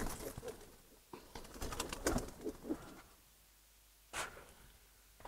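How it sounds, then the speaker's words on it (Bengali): Giribaz pigeons coo in a loft, giving several soft, throaty calls in short bursts with quiet pauses between, close by and fairly faint. "প্রতিটা কবুতর অ্যাক্টিভ, মাশাআল্লাহ, খুব সুন্দর কবুতর।"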